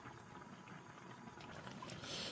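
Tteokbokki simmering in a pot as it is stirred, a soft, steady bubbling with a faint liquid burble throughout, growing slightly louder and brighter near the end.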